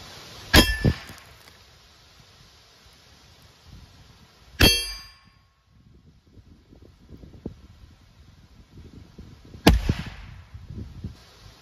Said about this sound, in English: Today we're set up to test the 40 grain CCi Velocitor out of the 10-inch barrel